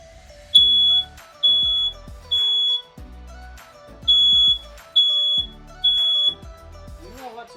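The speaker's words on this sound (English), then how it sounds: "what you want to do when you hear a smoke detector go off" A smoke alarm gives loud, piercing high-pitched beeps, six or seven in a steady repeating rhythm with short gaps, while a low background hum runs beneath.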